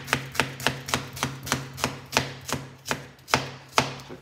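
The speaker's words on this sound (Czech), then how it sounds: "nejdřív nakrájem cibule" A knife chops onions on a wooden cutting board in a steady rhythm of about a dozen crisp, evenly spaced strikes, close and clear with no talking.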